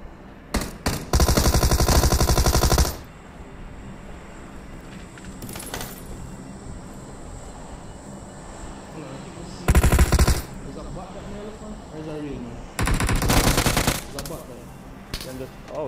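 Machine gun fire in the mobile battle royale game PUBG Mobile: loud sustained automatic bursts of a second or two each, coming in four separate volleys, with a player talking in the gaps between them.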